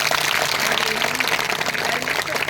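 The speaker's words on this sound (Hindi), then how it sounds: "ताली बजाएंगे पवित्र आत्मा के लिए।" Congregation at a Hindi-language Christian church service clapping in sustained, steady applause for the Holy Spirit, a dense continuous wash of hands with faint voices mixed in.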